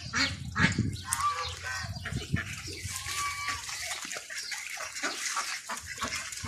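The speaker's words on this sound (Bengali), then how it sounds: "দেখেন সাদা হাঁস আছে" White domestic ducks quack on a farm, with repeated nasal calls rising and falling over a busy outdoor background and no talking.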